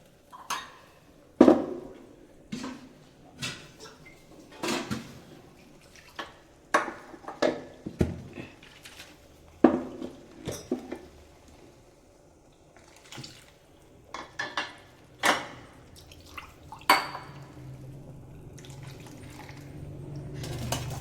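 Water swishes and splashes while a blender jar is rinsed and emptied into a pan of ground coconut, with clinks of the jar and spoon in short, irregular bursts, moderately close, with no talk.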